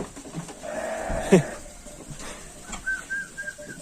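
A few short bleats from lambs, one louder call near the middle and fainter ones later, over outdoor background noise in a village.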